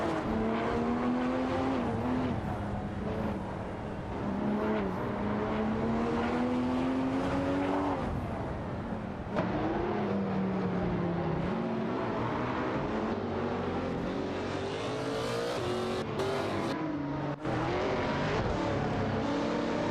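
A McLaren 540C and a Chevrolet Corvette C7 GS race in a racing game, their engines droning loud and continuous with rising and falling pitch through gear changes, one car's whine layered over the other.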